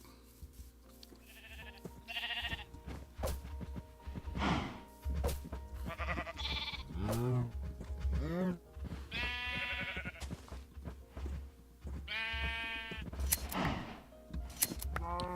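Repeated sheep bleats in Minecraft, several separate calls with clipped, game-like quality, over a faint background of clicks and soft thuds.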